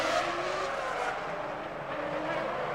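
Formula 1 cars racing through the streets at the 2001 Monaco Grand Prix, a steady loud engine roar with high whine, sustained throughout with slight swells as cars pass.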